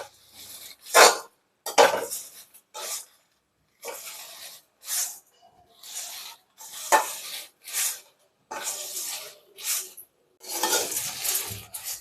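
Kurma masala spices and turmeric dry-roasting in a pan at home, with a spoon stirring in repeated short scraping bursts separated by brief pauses, close and fairly loud.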